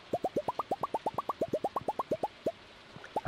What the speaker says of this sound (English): in Stardew Valley, that's the sound of money.